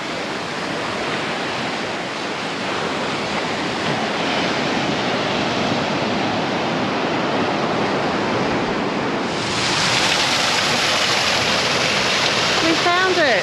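Steady broadband roar of ocean waves washing in at high tide on Australia's south-west coast, continuous and fairly close, swelling louder toward the end with brief water splashes.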